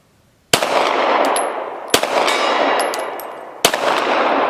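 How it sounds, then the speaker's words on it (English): Three loud pistol shots fired at a steel ram target 70 yards away, widely spaced, each a sharp crack followed by a sustained ringing echo and a faint metallic ping from the distant steel. "Let me shoot at that ram."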